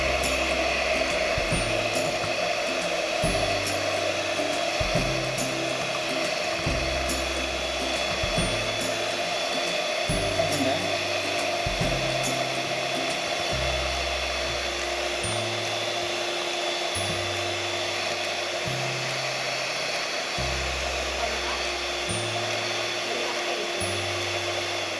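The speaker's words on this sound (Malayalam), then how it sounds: "ഈ 2 ഇൻഗ്രീഡിയൻസ് കൂടി നന്നായി ബീറ്റ് ചെയ്തെടുക്കുക." An electric hand mixer beats condensed milk and whipping cream together for mango mousse, a steady close whirring drone with a low rhythmic thumping pulse running through it, with no talking.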